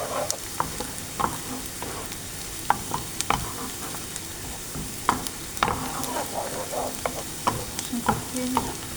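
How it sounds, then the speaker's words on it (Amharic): Sliced onions sizzle in hot oil, with a constant crackling hiss and frequent sharp pops and spoon clinks as they are stirred, close up with no talk. "ያው ዘይት ተናየ ሽንኩርት ጨመርኩ ማለት ነው።"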